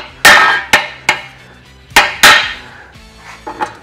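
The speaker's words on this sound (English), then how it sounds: "let's try and knock that with the hammer." A hammer knocks repeatedly against a broken-off metal part that has been drilled out, giving five or six loud, sharp ringing strikes at irregular intervals, then two fainter taps.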